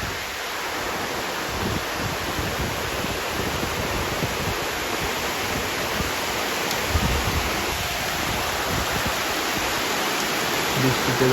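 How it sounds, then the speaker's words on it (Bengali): Heavy rain pours steadily onto green trees and leaves, heard from a veranda as a dense, unbroken hiss at constant loudness throughout, with no voices. "বৃষ্টির শব্দ শুনতে পাচ্ছেন, অনেক শব্দ হচ্ছে বৃষ্টি। বৃষ্টি অনেক বেড়ে গেছে।"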